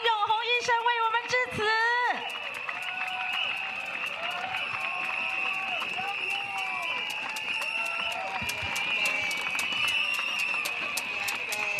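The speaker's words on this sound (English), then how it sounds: "Let's give a round of applause to welcome Dr. Ng Eng Hen." A voice speaks briefly, then a crowd at a political rally in Bishan Stadium applauds steadily, sustained clapping continuing for several seconds at an even level.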